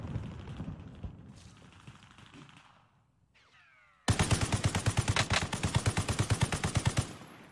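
Automatic rifle fire in Call of Duty: Warzone, a loud close burst of evenly spaced rapid shots following a quieter stretch of game ambience.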